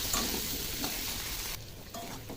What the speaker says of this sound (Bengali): আলুটাকে একটু ব্রাউন করে হালকা করে ভেজে নেব